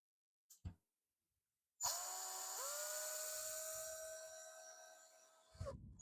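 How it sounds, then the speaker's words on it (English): A power drill whirs steadily as it bores into a wooden Halloween door hanger, running close and loud for several seconds with a shift in pitch partway through, then winding down, after a couple of brief knocks beforehand. "See if I can get those in without having to drill really far,"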